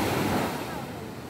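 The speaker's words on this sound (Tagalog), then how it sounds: "Ang ganda ng sound ng dagat." Sea waves wash and break nearby in a steady, loud broadband rush, heard briefly alone without talk.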